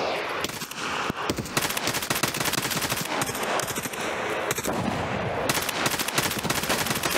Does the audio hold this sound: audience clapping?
no